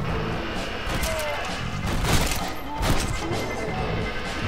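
Rapid gunfire from the Red Dead Redemption: Undead Nightmare zombie horde mode, a dense volley of shots and booming impacts running steadily through the clip while players talk over the shooting.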